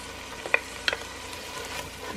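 A clove of garlic sizzles as it cooks in a pan for a salmon, lemon and dill pasta, a steady close frying hiss with a couple of small crackling pops.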